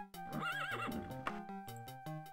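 A horse in the video game Daggerfall Unity lets out a loud, clear whinny with a rising and falling pitch. It sits over a background of steady musical tones and a few hoof-like knocks, with no speech.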